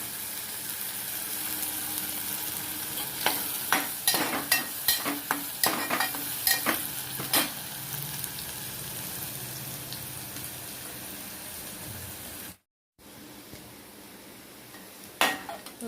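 Onions frying in a pan toward golden give a constant close sizzling hiss, with a run of quick spoon clinks and scrapes against the metal in the first half, then a short break before the sizzle resumes.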